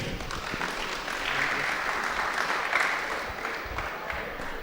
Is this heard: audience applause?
yes